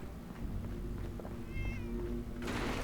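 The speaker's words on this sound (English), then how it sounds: "Kitty cat." A single short cat meow rises and falls over a steady humming background, with faint clicks and thumps nearby.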